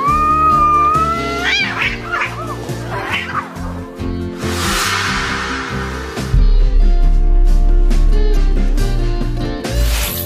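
Cats yowl and screech in a fight, drawn-out caterwauls rising and falling over a steady background, growing louder and harsher toward the end.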